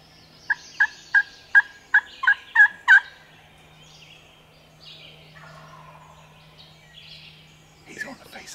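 A run of eight short, clipped gobbles comes from a wild turkey at moderate distance just off the roost, evenly spaced and growing slightly louder, in a quiet outdoor setting.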